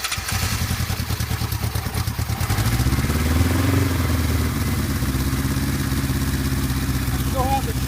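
A cold 1975 Kawasaki Z1 900 motorcycle started with the choke on, settling into a steady, close idle with a rhythmic mechanical clatter while someone talks over it.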